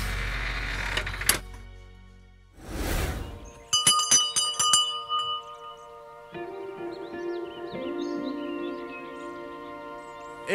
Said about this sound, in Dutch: heb jij de bel geluid?